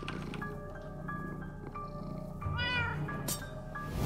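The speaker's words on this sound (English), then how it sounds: "Bad kitty, stop it!" A cat named Winslow meows repeatedly in Minecraft Story Mode, several drawn-out, whiny calls over a steady game background, with one rising, wavering yowl near the end.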